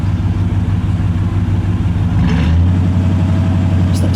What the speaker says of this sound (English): Let me hear that exhaust. Oh, it's got a very nice little rumble to it.